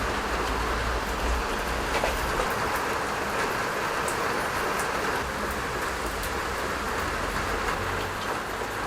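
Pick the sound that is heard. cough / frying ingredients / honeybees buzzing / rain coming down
rain coming down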